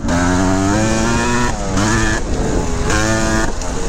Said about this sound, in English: Wheelie on the concrete pad there.